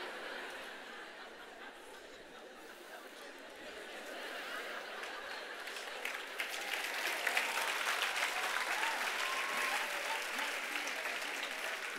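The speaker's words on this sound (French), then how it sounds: "Je ne sais pas pourquoi vous applaudissez" Applause from a church congregation during a Friday evening service, a steady wash of many hands clapping that swells louder over the last half, with faint chuckles and murmurs mixed in.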